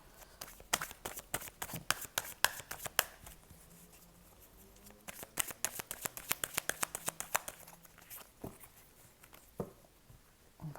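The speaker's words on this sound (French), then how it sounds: "On va bien mélanger les cartes." Oracle cards shuffled by hand, rapid bursts of crisp riffling flicks and slaps in two long runs separated by a brief pause, close and fairly quiet with no talking.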